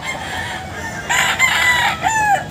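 A rooster crows loudly nearby, two drawn-out calls in quick succession over faint background noise.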